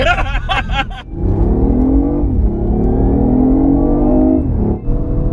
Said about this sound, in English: sharpens up the throttle response and the gear changes